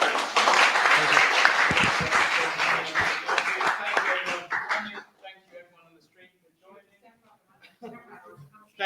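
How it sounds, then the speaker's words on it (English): An audience at a talk on application security applauds for several seconds, loud dense clapping that tapers off, followed by a voice speaking alone. "Last round of applause."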